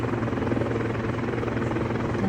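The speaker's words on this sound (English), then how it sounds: "Got some helicopters running over there." Helicopters fly nearby over a harbor at Victoria, B.C., a steady, loud rotor thrum and engine drone that holds evenly throughout with no voices.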